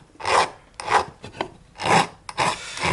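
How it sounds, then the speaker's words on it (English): A hand file rasps around a drilled hole in a metal rail in about five distinct back-and-forth strokes, close and loud with short pauses between them. "But I haven't got a burr, so I'm just using the file."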